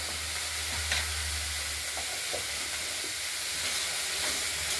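Chopped broccoli frying in a kadai with green chilli, panch phoron, salt and turmeric gives a steady, even sizzling hiss over a low background hum, with occasional faint clinks.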